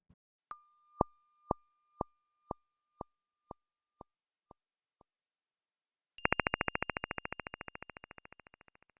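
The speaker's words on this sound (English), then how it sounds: "these are the sounds for low or high star formation rate, that is, inactive versus very active galaxies." Two synthetic tone patterns sonifying galaxy star formation rates: a slow series of evenly spaced beeps that fade out for inactive galaxies, then a rapid, buzzy stream of pulses that gradually softens for very active ones.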